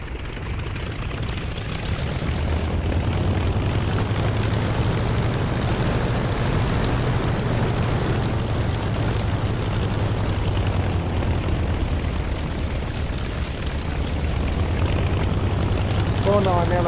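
A propeller aircraft taxis in the DCS flight simulator, its engine holding a steady, loud, low drone that rises slightly and stays constant throughout.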